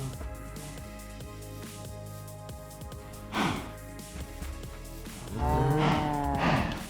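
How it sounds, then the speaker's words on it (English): A Minecraft cow in the FTB Ultimate modpack moos twice, with low drawn-out calls rising over steady background game music. "Can I punch any of these cows?"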